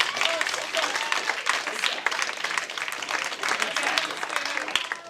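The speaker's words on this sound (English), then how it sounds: "Round of applause." An audience at a live drawing-game finals event gives a round of applause, a dense, steady clatter of many hands with scattered voices mixed in.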